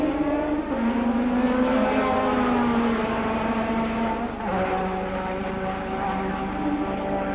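Formula One race cars at the 1984 San Marino Grand Prix roar past, a loud continuous engine wail with shifting pitch as cars come through the pit straight, one engine note dropping as another takes over.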